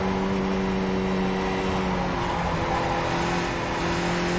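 A race car engine in a sim racing game race, a loud steady tonal drone with a held pitch that dips and shifts slightly partway through, continuous and without talk.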